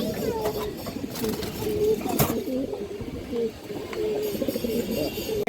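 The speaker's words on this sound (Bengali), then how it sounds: "একটা লাল মুসলদম নর কবুতর দর্শক, অনেক ভালো ব্রান্ডের একটা নর কবুতর।" A male red Muslodom pigeon coos close by, giving repeated soft, throaty rolling calls over a faint background hubbub.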